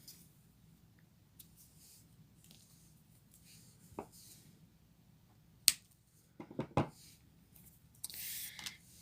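Scissors cut through a leather cord while a bead necklace is being made, giving a few sparse, crisp snips close by in otherwise quiet surroundings.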